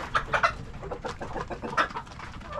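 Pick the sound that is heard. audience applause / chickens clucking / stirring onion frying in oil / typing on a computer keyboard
chickens clucking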